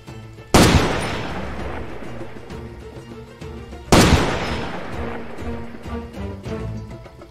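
Two sharp gunshots ring out in the shooter Far Cry 2, spaced a few seconds apart, each with a loud crack and a decaying echo over low background music.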